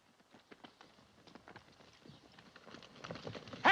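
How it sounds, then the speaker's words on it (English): Horses' hooves clip-clopping in an old 1948 western film scene, a quick uneven patter of hoofbeats that grows louder toward the end, ending in a sudden sharp high sound. "Those are our horses."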